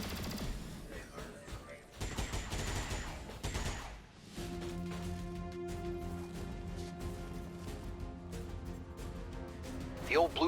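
Gunfire in the squad-based video game XCOM: Chimera Squad, bursts of shots and impacts over a busy game soundtrack, with a voice speaking in places.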